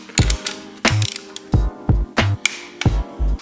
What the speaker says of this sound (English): I need to go back and retorque the chain well bolts